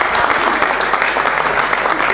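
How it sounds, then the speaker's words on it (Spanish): A crowd applauds steadily throughout, dense clapping at close range with some voices mixed in. "Merece un aplauso esto, ¿eh? Un aplauso esto."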